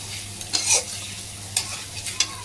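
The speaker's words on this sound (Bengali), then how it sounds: "আগে পেঁয়াজটাকে ভালো করে নাড়িয়ে নেবো।" Onions stirred and fried in a pan, a spatula scraping through them in a few distinct strokes over a soft, steady sizzle, close and fairly quiet.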